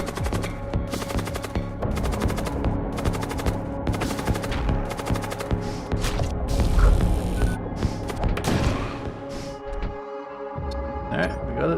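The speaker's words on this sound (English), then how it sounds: "Unwilling to yield their initiative, it attacks your vessel and opens fire." In the PC game Void War, an enemy war cult vessel opens fire, producing long stretches of rapid, rattling automatic gunfire bursts over a steady low hum, loud and continuous before thinning out near the end.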